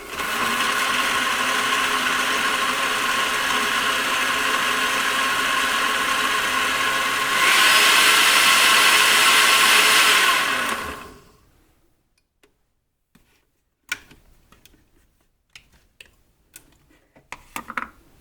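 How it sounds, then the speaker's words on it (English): A blender whirring through ginger and orange juice, a loud steady motor whine that rises to a higher pitch partway through, then cuts off and spins down, leaving quiet with scattered small clicks and taps. "blend it all up"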